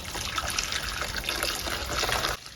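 Iriko (dried sardine) soup base poured through a strainer, a steady close trickle and splash of liquid for about two seconds before it stops.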